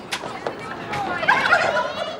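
Farm turkeys kept for the table gobble in a burst of warbling calls, with voices and other noise mixed in around them.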